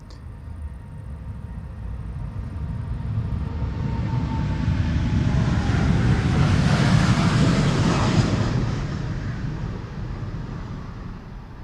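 A KLM Boeing 787-10 in the 100-years livery takes off from Amsterdam's Polderbaan, its engine roar building from a distant rumble to a loud broad peak, then fading as it climbs away.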